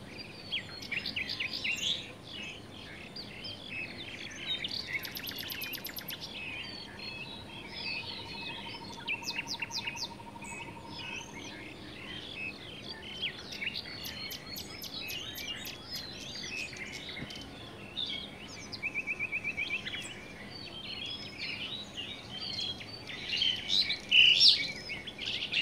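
Many birds sing and chirp through a forest, with overlapping bright trills and calls at a moderate distance, a faint insect-like hum and a few louder, nearer calls near the end.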